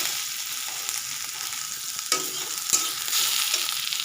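Sliced onions and garlic cloves fry in a pan, giving a steady close sizzle with occasional stirring scrapes and a couple of sharp taps against the pan.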